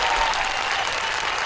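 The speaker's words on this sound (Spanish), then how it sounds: "Quiero pedir un aplauso para los derechos humanos de San Juan" Audience applause fills a studio during an Argentine talk programme, steady dense clapping throughout a short burst, fairly loud with no voices on top.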